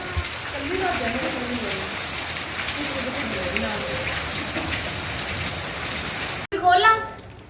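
Steady rain pours down in a dense hiss, with faint voices murmuring beneath it before a brief close-up voice at the end.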